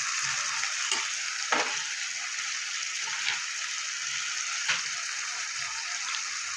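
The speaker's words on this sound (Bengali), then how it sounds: "টমেটোর সাথে এটা আমি ভালো করে ভাজা ভাজা মতো করে নেব।" Chopped tomatoes with ground spices fry in a pan for an egg curry, a steady close sizzle with occasional soft stirring taps and no talking.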